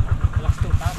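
A power tiller engine chugs close by in a fast, steady pulsing rhythm, running continuously at a strong, even level.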